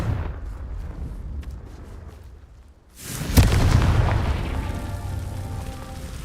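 A Confringo fire spell in Hogwarts Legacy goes off as a sudden loud boom, then a long roaring rumble that slowly fades after a quieter ambient stretch.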